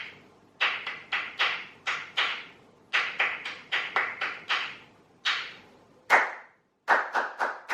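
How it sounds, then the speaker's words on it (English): A single pair of hands claps short rhythmic patterns at close range, crisp sharp claps grouped in bursts with brief pauses between phrases, alone with no talk. "I shall count the pulse and then clap a rhythm"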